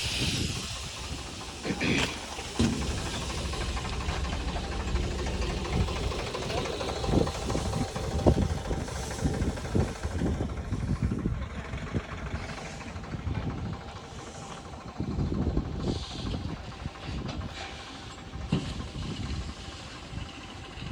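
Tractors idling in a long queue at a groundnut procurement yard, a continuous low engine rumble with hiss and knocking, layered with busy outdoor background noise for the whole stretch.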